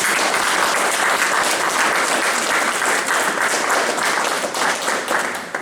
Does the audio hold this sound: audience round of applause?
yes